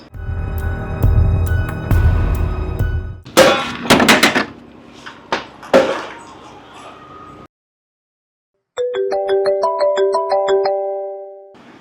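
After loud music and a few knocks, a phone rings on an outgoing call: a short silence, then repeated electronic ringing tones in a steady pattern.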